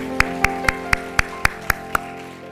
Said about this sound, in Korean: 우리 존귀한 함께 영광의 박수 올려드립니다.